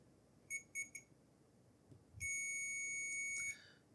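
Electronic beeps from a continuity tester probing a game console circuit board: three short chirps, then one sustained tone of about a second, clear over faint background hum.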